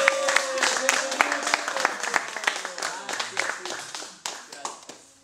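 A crowd claps and applauds steadily, close and lively, the claps thinning slightly toward the end.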